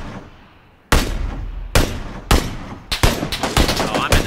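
Gunfire from the battle royale video game Battlegrounds: a loud shot cracks out of near quiet, followed by several more spaced shots and then a quicker burst of rapid firing, each close and sharp.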